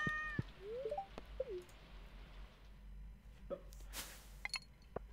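A cat in the farming game Stardew Valley gives a few short, quiet meows, one near the start and another around the middle, with small clicks and a brief sharp burst later against a soft, steady background.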